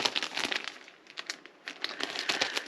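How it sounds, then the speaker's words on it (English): Plastic bag crinkling around a pair of square quilting rulers, a close, busy run of crisp rustles and crackles with brief pauses, no talking. "Oh, plastic. Inside a plastic bag."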